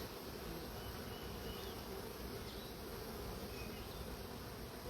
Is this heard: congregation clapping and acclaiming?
no